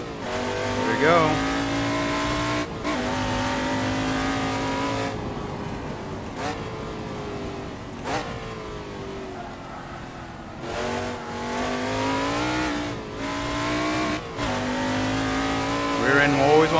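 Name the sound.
McLaren Can-Am race car driven in Assetto Corsa video game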